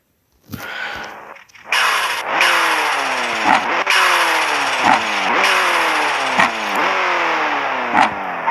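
A car engine in the racing game Assetto revs repeatedly, its pitch climbing and dropping with each gear shift, loud and close, with no talking.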